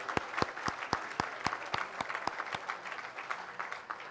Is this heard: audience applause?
yes